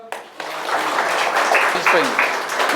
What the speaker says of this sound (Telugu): Correct answer. క్లాప్స్ ఇవ్వండి అందరూ.